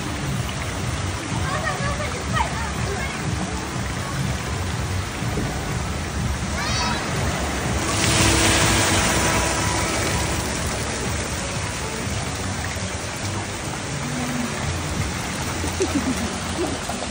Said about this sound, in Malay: Air dah nak terjun tu, cepat.